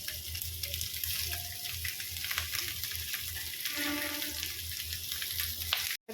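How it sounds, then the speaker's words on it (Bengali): Diced potatoes fry with cumin in a pan, a steady close sizzle with scraping and stirring noises, faint and continuous, with no one speaking. "ভালো করে নেড়ে চেড়ে ভেজে নিই।"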